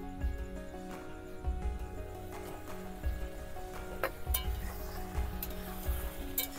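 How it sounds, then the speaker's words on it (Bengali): A spoon stirs vegetarian spiny gourd curry in a pan, giving soft, regular scraping strokes about every half second over a faint, low sizzle. The sounds are close and quiet. "আবার খুলে একটু নেড়ে দেবো"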